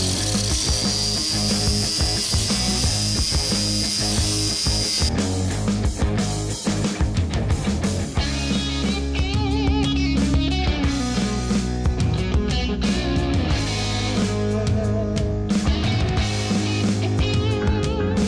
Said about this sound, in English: I'm gonna start cutting up some steel